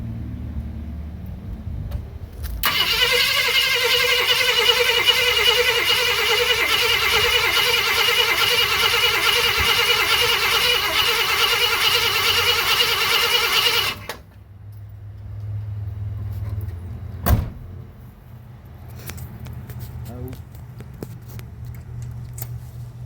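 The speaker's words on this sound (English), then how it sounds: "I don't expect that this is going to rip right off first pull because there's no fuel in it." 1965 Ford Thunderbird engine cranked with no fuel: a loud, continuous whirring starter drone for about eleven seconds without catching, then stopping into a quiet low rumble with a single thump.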